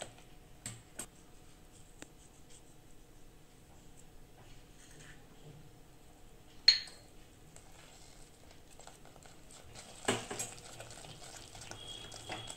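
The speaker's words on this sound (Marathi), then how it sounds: "ढवळत राहायचे, नाहीतर खाली लागण्याची शक्यता आहे।" A spoon stirring thickening kalakand milk mixture in a pot, quiet scrapes and occasional sharp clinks against the metal, with a louder knock midway and a burst of scraping near the end.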